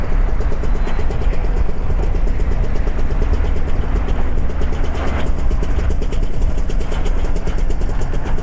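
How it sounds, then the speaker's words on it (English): A motorcycle engine runs steadily and loudly up close, a continuous throbbing idle with no voices. "so you guys don't have to hear this motorcycle engine"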